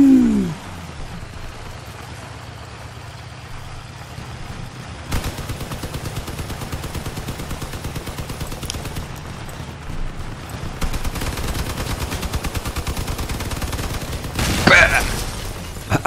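Gunfire in the Crossout vehicle combat game arrives as rapid, continuous bursts that start abruptly after a quiet stretch and grow denser later, with a sharp louder crack near the end.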